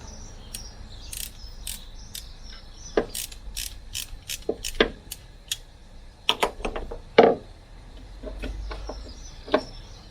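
A ratchet clicks in short, sharp bursts while undoing the two 13mm nuts on a Renault 9 carburettor. The bursts are irregular and close, with pauses between them and no talking.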